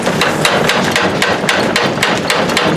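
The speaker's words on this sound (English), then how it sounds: "The old trip hammer, as I mentioned, is 100 years old." A 100-year-old blacksmith's trip hammer runs in a fast, regular series of loud metallic blows, roughly five strikes per second, close and dominant with no talking.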